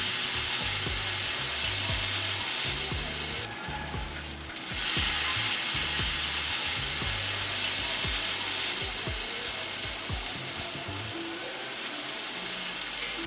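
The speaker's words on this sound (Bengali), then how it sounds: "এবার গাজরের এই পেস্টটা ঘিয়ের সাথে 2-3 মিনিট ভালো করে ভেজে নিব।" Grated carrot paste frying in ghee in a pan for a Bengali carrot pitha, a steady close sizzle with soft scraping stirs and small ticks throughout, a brief louder hiss surge partway, no talk.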